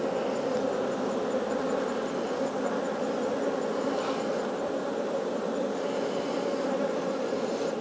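Honey bees hum in a dense, continuous buzz during a hive inspection before winter, close and steady throughout with no speech.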